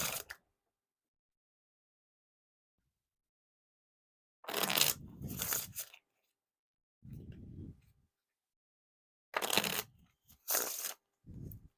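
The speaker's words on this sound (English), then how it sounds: "But they can still riffle shuffle and bridge shuffle, but they just feel clumpy" Bicycle Mosaique playing cards being riffle and bridge shuffled, heard as sharp close bursts of rapid fluttering card riffles in separate groups, with quiet gaps between them.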